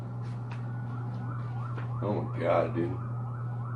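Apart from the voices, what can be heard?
ambulance siren passing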